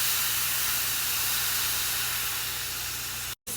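Milk poured into browned flour in a hot pan for gravy hisses and sizzles loudly, a dense steady rush that holds for several seconds before cutting off abruptly near the end.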